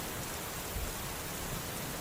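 Steady, soft rain patters against a window in an even, continuous hiss with a few slightly heavier drops, quiet and unbroken, with no voices.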